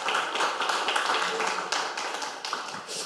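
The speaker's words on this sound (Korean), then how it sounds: "박수 쳐주십시오." Audience at a talk concert forum claps after a National Assembly floor leader is introduced, a dense, even patter of many hands throughout, moderately loud in a hall.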